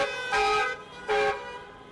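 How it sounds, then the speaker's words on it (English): A passing bus honks its horn twice, two loud sustained toots about three quarters of a second apart over steady traffic noise outdoors. "The bus is also honking, that's good"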